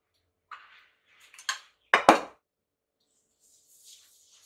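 Sugar, brown sugar, salt and coconut cream being mixed in a bowl for bingka ubi: a few scattered utensil clinks and scrapes, with two louder knocks in the middle and quiet pauses between.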